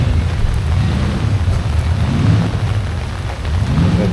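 Steady rain falls at an outdoor 1950s classic car show, a dense, loud, continuous hiss with a low rumble of gusty wind underneath and no pauses.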